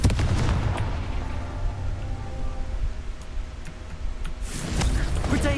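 Repeated booming blasts of the Confringo fire spell in the Hogwarts Legacy game, loud bursts over a rumbling low-end combat backdrop, with a fresh burst near the end.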